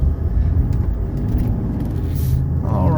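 A 1995 Mercedes E300 car accelerates on a test drive, its engine and road noise heard from inside the cabin as a loud, steady rumble that swells slightly.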